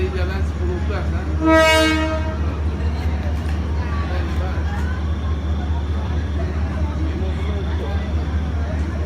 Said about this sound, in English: This train is huge.